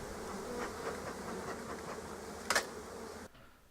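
Honey bees in a nucleus colony with a laying queen buzz steadily at an open hive, a dense, close hum with a brief louder swell near the end before the sound drops away.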